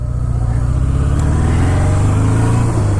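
1980 Suzuki GS750 motorcycle accelerating up through the gears, a close, loud, continuous engine drone with a brief dip at a shift near the end, no talking.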